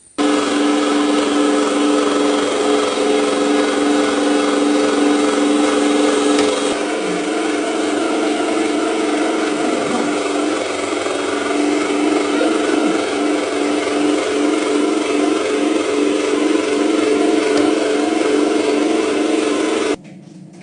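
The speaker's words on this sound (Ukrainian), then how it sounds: "Поставили дрібну цю сіточку і починаємо все перемішувати, перерубувати на м'ясорубці." Electric meat grinder fitted with a fine plate, mincing a sticky mixture for vitamin candies: a loud, steady motor whir that runs without a break for about twenty seconds and then cuts off, with no voices.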